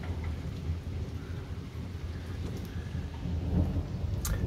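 A severe thunderstorm: steady heavy rain patters and hisses throughout while low thunder rumbles roll beneath it, swelling louder toward the end, with a brief sharp crackle near the close.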